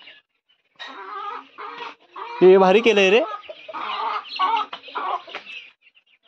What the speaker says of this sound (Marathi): साहिलची कोंबडी बघा किती आहे ती.